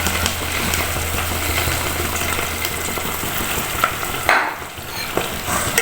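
Chicken feet fry in oil for a spicy Pakistani-style salan, giving a steady close sizzle with a low background hum and a few sharper clatters near the end.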